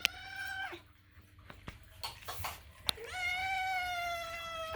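A cat makes strange, drawn-out meowing calls close to the microphone, one at the start and another after a pause. Softer rustling and small knocks fill the gap between them, with no one talking.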